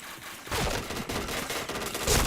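Bursts of rapid gunfire in a shooting video game, dense and fairly loud, heard as repeated volleys across the clip with no talk.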